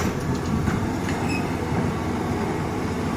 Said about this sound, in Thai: ว่าขบวนด่วนพิเศษสามหนึ่งวิ่งใกล้จะถึงนะครับ